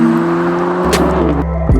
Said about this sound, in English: we'll clip away to some drive-by shots here, but this car sounds so bad